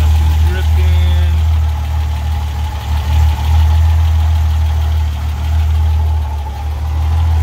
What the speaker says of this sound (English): So I got the motor running now. I've been turning it on, turning it off, making sure there's enough oil in it.